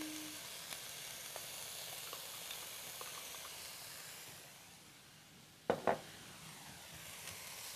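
Carrot and red cabbage sizzling in a pan as they are stirred, a soft steady hiss with light scraping, ending in a couple of sharper clatters near the end.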